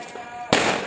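A single firecracker goes off with a sudden loud close crack during Karthigai Deepam festivities at home, its burst ringing out and decaying, after a quiet lead-in marked by a faint tone.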